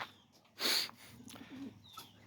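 Pigeons in a newly built loft give a soft coo alongside a sudden close rustle or flap, with faint chirps scattered around in a quiet room.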